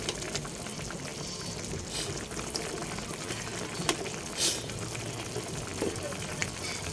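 Chicken sinigang with taro simmering in a pot, a steady dense bubbling and hiss that runs continuously at moderate level, with a few brief clinks and spikes over it.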